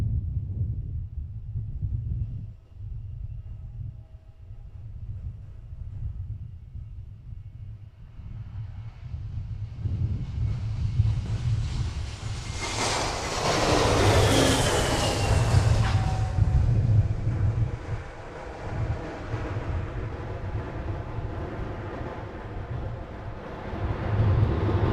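A JetBlue airliner arriving from Boston lands at Princess Juliana Airport beside Maho Beach, Sint Maarten. A low rumble builds into a loud roaring rush as it passes close overhead, then fades into steady engine noise.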